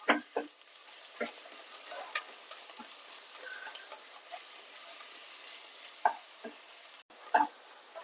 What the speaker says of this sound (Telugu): ఆ పచ్చి వాసన పోయేదాకా కొద్దిగా ఈ ఆయిల్లో ఫ్రై చేద్దాం.